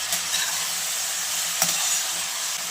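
Onions and tomatoes sauté in a pan with a steady, close sizzle, broken by a few brief stirring scrapes and no voices.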